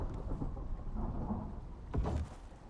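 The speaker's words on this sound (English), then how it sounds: "There's a storm going on." A thunderstorm rages in the survival game Icarus: steady rain hisses throughout while a deep thunderclap booms and rumbles near the two-second mark, then fades back into the downpour.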